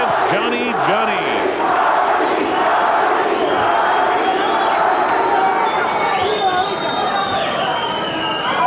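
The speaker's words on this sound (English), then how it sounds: "you hear the crowd, the chants, Johnny, Johnny" A dense boxing-arena crowd roars and chants continuously at a world super flyweight title fight, loud and close, with scattered shouts and voices mixed through the steady wall of cheering.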